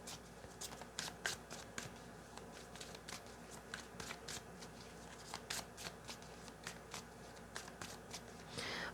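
Oracle cards are shuffled and pulled by hand, producing a quick, close run of crisp riffling snaps and soft slides that repeats steadily for several seconds at low volume.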